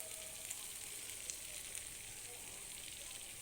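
Sour yogurt added to spiced oil on lowered heat makes a soft, even sizzle as it is stirred, a faint and steady hiss with no breaks.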